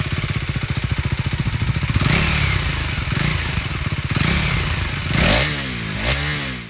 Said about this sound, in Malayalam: അപ്പോൾ നമുക്കിനി ഇതിൻ്റെ എക്സോസ്റ്റ് നോട്ടൊന്ന് കേട്ടതാണ്.